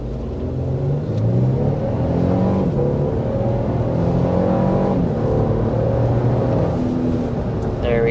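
A 2024 Lexus GX 550 SUV accelerates hard from inside the cabin, its engine a steady loud low drone with gear-stepped rising tones over about eight seconds and no talking.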